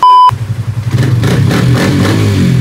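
A Honda Click v3 scooter engine, fitted with a changed CVT, starts right after a brief electronic beep. It sputters into a loud, close idle and then revs up steadily with a throaty, pulsing drone.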